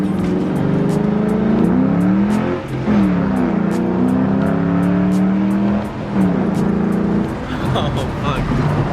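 A 3-valve Ford Mustang GT with a Roush cold air intake and throttle body revs up repeatedly, its pitch climbing through several gear changes, close by with a loud, rattling, rumbling roar.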